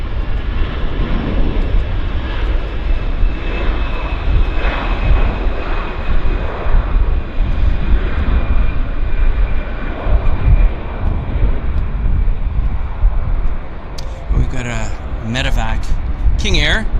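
Roaring engines of an Airbus A321 jet airliner taking off at Vancouver airport, a steady loud rumble throughout with wind buffeting, and a commentator's voice briefly heard near the end.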